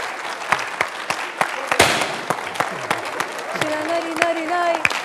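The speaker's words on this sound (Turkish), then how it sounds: "Kocaman alkışlar Hakan'a." Studio audience applause for a prospective groom named Hakan on a Turkish comedy show, a steady patter of clapping with sharp individual claps standing out, while a voice speaks over the later part.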